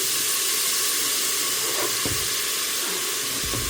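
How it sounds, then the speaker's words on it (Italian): Finely chopped onion and peas sautéing in a pot, a steady broad hiss and sizzle throughout with a few soft clinks or stirs near the middle and end, no voices. "Facciamo soffriggere la cipolla."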